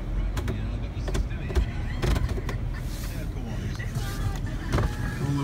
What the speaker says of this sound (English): All electric windows, everything working.